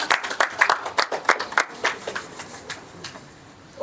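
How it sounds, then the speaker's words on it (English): A brief burst of clapping from a small group at a Toastmasters club meeting, quick uneven claps that thin out and fade within a few seconds. "A big round of applause for Anuj first of all, guys."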